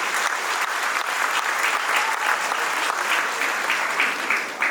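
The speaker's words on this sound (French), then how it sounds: "Nous vous prions d'applaudir encore plus fort pour ce beau discours." Sustained applause from a university conference audience after a speech at a ceremony, steady, dense clapping filling the room without pause or voices.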